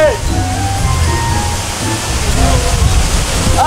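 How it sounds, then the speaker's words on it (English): A waterfall on a hiking trail roars close by, a constant heavy wash of falling water and spray with voices talking over it. "So we made it to this waterfall and we're getting soaked right now just standing here."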